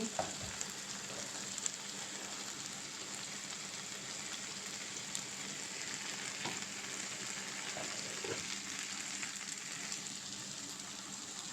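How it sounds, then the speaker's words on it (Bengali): Potatoes frying with beans in a pan, a continuous close hiss and sizzle with occasional stirring clicks, steady throughout and free of speech. "উশি দিয়ে আলু দিয়ে ভাজতেছি"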